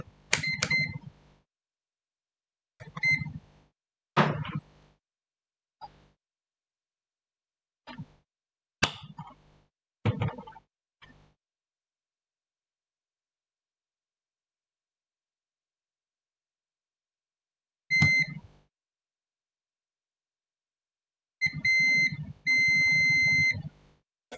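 A 5G router emits short beeps in scattered bursts, some single, some rapid clusters, separated by silent gaps, with a longer run of beeps near the end.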